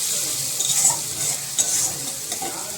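Onions frying with salt in a pan, a constant hissing sizzle broken by scraping stirs and a few sharper clacks, near and fairly loud without speech.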